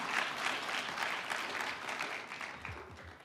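A hackathon demo audience claps in a steady wash of applause, fairly distant and even, then thins out toward the end with a few scattered claps.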